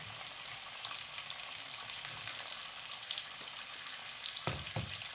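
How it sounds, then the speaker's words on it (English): Steak sizzling slowly in a pan, with a steady, soft frying hiss throughout and a couple of faint clinks near the end. "as it cooks slowly, it will marinate itself while it's being cooked."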